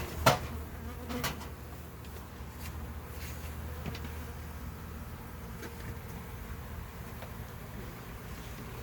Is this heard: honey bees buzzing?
yes